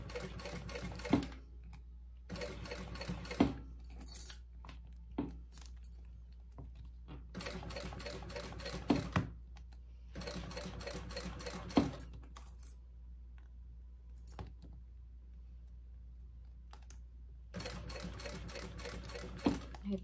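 A sewing machine stitches a handbag in repeated bursts of rapid, steady clatter lasting a second or two each, with short back-stitch runs at the start and end and quiet pauses between.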